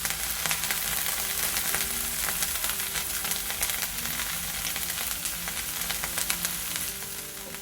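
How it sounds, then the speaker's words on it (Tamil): Onion and drumstick leaves sauté in a hot pan with a loud, steady sizzle and crackle, broken by occasional stirring scrapes, close and continuous with no voices. "கீரை நல்லா வதங்கட்டும்."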